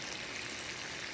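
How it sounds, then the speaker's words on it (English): Chicken and shrimp sizzling in a pan on a power burner, a dense steady hiss and crackle filling the moment, close and even with no talking. "Can you hear the sizzle?"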